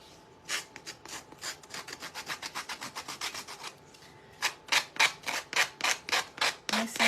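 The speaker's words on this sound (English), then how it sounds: "we're just going to use the sanding tool, and we're going to sand the edges off" A sanding tool works the edges of a Dollar Tree coco liner with quick, regular rasping strokes, close and fairly quiet. The strokes pause briefly midway, then resume stronger and more spaced.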